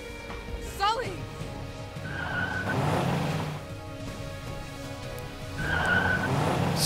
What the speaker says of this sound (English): So now we have a car coming at us.